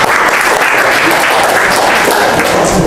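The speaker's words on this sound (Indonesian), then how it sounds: "tepuk tangan." Audience applause fills the room at a teaching performance assessment presentation, a steady dense clatter of many hands clapping at even loudness throughout, with no voices over it.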